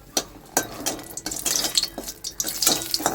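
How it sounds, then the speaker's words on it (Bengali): Dried red chillies fry in hot mustard oil in a kadai, giving a steady crackling sizzle with sharp spits and pops throughout, close and fairly loud with no talking. "দুটো শুকনো লঙ্কা ভেজে নিচ্ছি।"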